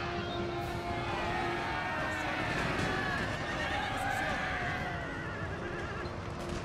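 In a Napoleonic-era battle game set at Munich with French forces and heavy cavalry, a horse whinnies loudly over a busy wash of battle noise, with hoofbeats clopping and faint voices in the mix.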